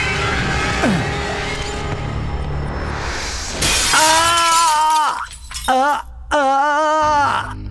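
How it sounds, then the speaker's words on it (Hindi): A glass pane crashes down onto a man's head and shatters in a Hindi-dubbed Telugu film, a loud burst of breaking glass followed by groaning vocal cries over a steady background bed. "ये शीशा मेरे सर पर गिरा और चकनाचूर हो गया"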